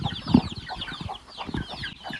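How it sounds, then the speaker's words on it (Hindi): Small chickens cluck in a village in Arunachal Pradesh, northeast India, a busy run of short repeated clucks from several birds close by, with no talking. "छोटे छोटे मुर्गी बहुत ज़्यादा है"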